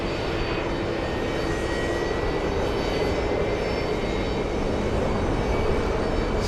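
A C-17 military transport aircraft on final approach at JFK airport gives a steady, broad engine roar, sustained and fairly loud without clear rise or fade, and no talking.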